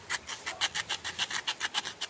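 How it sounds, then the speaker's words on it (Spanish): Sandpaper rasps back and forth over hardened putty in quick, even strokes, about a dozen rhythmic scrapes, close and fairly quiet. "cuando la masilla está dura, solo es de lijarla."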